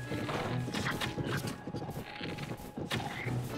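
In Zelda: Tears of the Kingdom a horse's hooves thud and clop over a dense, busy game soundscape, with a neigh mixed into the loud, continuous jumble.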